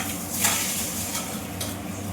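Eggs dropped into a boiling egg curry and stirred, giving a bubbling simmer with scraping and clinking of a spoon against the pot, close and continuous without talk.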